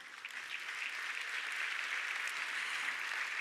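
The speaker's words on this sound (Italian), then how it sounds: "Un applauso." An audience at an award ceremony for economy and development gives steady, even applause that carries on evenly throughout, heard from a moderate distance.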